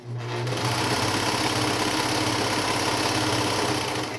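A Brother 1034D serger runs fast and continuously past the end of the fabric, a loud, even mechanical whir with a rapid rhythmic chatter, close up and with no talk.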